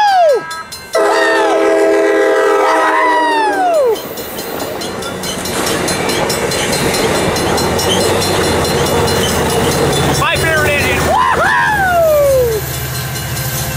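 A train passing the Santa Fe Depot blares its horn in loud, falling blasts over a steady rumbling roar of passing rail cars, with more horn calls near the end.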